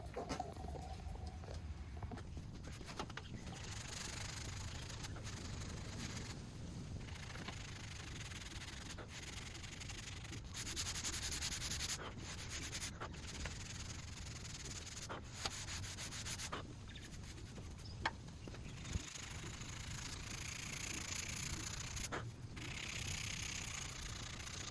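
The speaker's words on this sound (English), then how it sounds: "I'll probably just hand sand that too" Hand sanding a piece of spotted gum or Tasmanian oak: continuous close, raspy rubbing strokes with a steady back-and-forth rhythm, a few brief knocks and pauses between passes, no talking.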